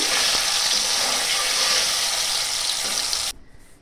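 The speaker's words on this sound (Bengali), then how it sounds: "যেহেতু বলেছি আমি পনির পোহা করব, তাই পনিরগুলোকে আগে আমি একটু ভেজে নেব।" Paneer cubes frying in white oil in a kadai give a loud, dense, steady sizzle up close, cutting off abruptly near the end.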